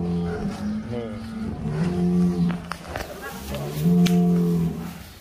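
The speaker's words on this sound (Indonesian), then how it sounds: "Sapi Belgian Blue Cross." A heavily muscled Belgian Blue Cross bull lows in deep, drawn-out moos, several loud calls close by in quick succession.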